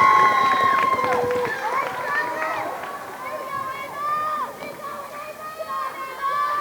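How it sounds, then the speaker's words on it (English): A loud crowd at a high school volleyball game between Everett and Saugus at Everett High School roars and chatters continuously, with shrill shouts and cheers rising and falling close by. "And the crowd is so loud, you can't even hear the whistle."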